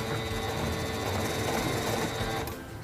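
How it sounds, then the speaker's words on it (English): A Singer 7258 computerized sewing machine stitches in reverse with a fast, even, mechanical whir and rapid needle chatter that stays steady up close, then tapers off as it stops at the end. "Press and hold the reverse button to sew backwards a few stitches."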